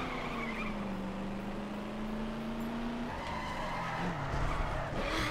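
Tires skid and squeal as a car drifts in the racing game The Crew, a steady loud screech with engine drone underneath that shifts pitch and breaks up partway through.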